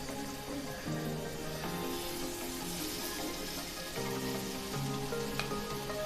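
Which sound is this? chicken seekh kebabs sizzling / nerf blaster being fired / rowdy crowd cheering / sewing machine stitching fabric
chicken seekh kebabs sizzling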